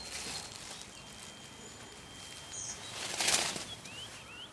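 A small bird, just freed from a kerosene heater stove, flaps its wings in a quick flurry as it flies off toward a tree outdoors, faint and brief, followed by a couple of distant chirps.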